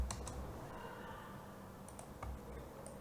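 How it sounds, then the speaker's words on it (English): Computer keyboard keys pressed while entering values, a few sharp, close clicks spaced irregularly over a faint background, with no talk. "Press tab on your keyboard, should go to the next value."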